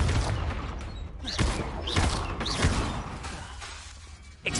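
Repeated Confringo fire-blast spells in Hogwarts Legacy go off in quick succession, sharp whooshing bursts and booms over a dense, noisy combat background, fairly loud and close.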